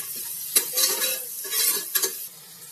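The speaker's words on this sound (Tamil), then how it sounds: "இதை நல்லா கிளறி விட்டுக்கலாம்." A spice mixture with homemade chili powder is stirred in a hot pan for Tirunelveli rice and dal, with scraping spatula strokes and a bright sizzle in short bursts, close and clear.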